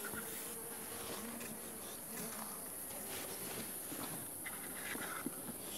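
Honey bees buzz continuously around a weak hive during beekeeping care, a faint, steady swarm hum with scattered close passes and a few soft knocks in the background.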